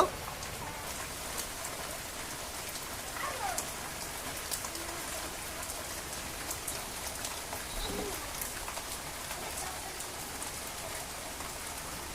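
Heavy morning rain pours steadily over a village, a constant close wash of drops with a pigeon or dove cooing faintly in the background.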